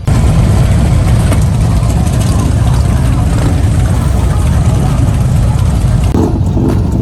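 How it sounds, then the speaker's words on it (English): Dense, continuous engine roar from hundreds of motorcycles, many Harleys, revving at once at a Christmas toy run, loud and steady throughout with a low rumbling texture and faint voices mixed in. "hundreds of bikers are here revving their engines"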